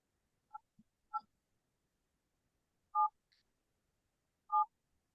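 Phone keypad tones dial into a Zoom meeting, sounding as a few short separate beeps spaced out against silence, clear and close.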